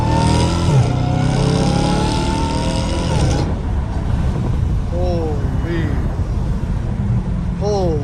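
A Dodge Challenger Hellcat Redeye with a cat-back exhaust rumbles loudly up close on the street, revving with rising pitch sweeps early on, then dropping to a rough burbling idle with brief blips, while voices talk over it.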